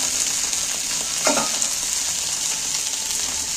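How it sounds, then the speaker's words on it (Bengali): Potato pieces fry in leftover oil in a pan, a continuous close sizzle with occasional stirring scrapes as they are turned over. "এবার আমি একটু উল্টে পাল্টে ভেজে নেব"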